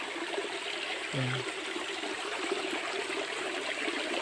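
A stream in Quezon rushes in a steady, close broadband wash of flowing water, while someone briefly speaks one word over it.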